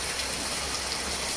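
Heavy rain pours down in General Santos City, a dense, even hiss of falling water with no pauses and no voices.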